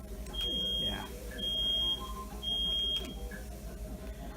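A smoke alarm gives three loud, evenly spaced high-pitched beeps about one second apart, sounding over quiet room background.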